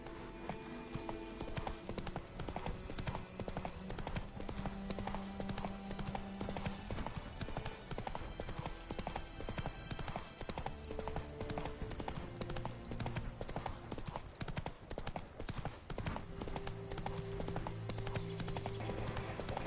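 Roach, the horse in The Witcher 3, clip-clops steadily and continuously at a brisk gait, with game music playing beneath the hoofbeats.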